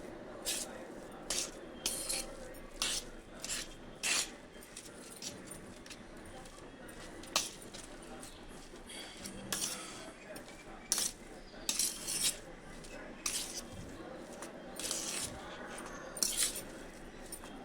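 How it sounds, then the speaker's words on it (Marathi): A spoon mixes spices with crushed carom seeds in a bowl, producing scattered metallic clinks and scrapes at irregular intervals, fairly close and quiet. "असा थोडा ओवा टाकतो ते सगळं मिक्स करून घ्यायचं छान"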